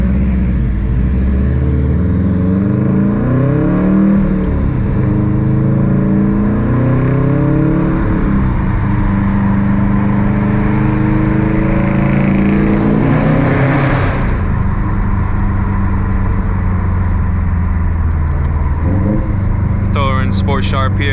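A 400whp Subaru STI with an FP Blue turbo driven hard, the engine loud and close as it revs up and shifts repeatedly through rising and falling pitch sweeps, with a brief turbo whoosh near the end.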